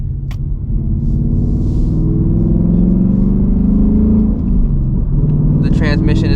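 Ford S650 Mustang GT V8 engine droning loudly from inside the car in drag mode, a heavy sustained rumble with rising and dipping pitch as it revs through shifts, with brief faint sounds over the top.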